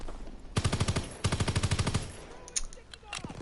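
Tactical SMG firing in Fortnite, two rapid full-auto bursts of about ten crisp shots each, loud and close, followed by a few scattered impacts and game effects.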